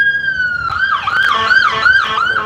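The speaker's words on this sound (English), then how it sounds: "We got an ambulance going by." An ambulance siren wails past on a coastal street, loud and close, its rising and falling tone cycling steadily over low traffic rumble with no talk.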